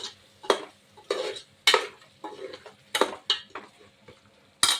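A spoon stirs mutton curry in a pan on a switched-off stove, producing a series of irregular scraping clinks spaced roughly half a second apart, close and fairly quiet.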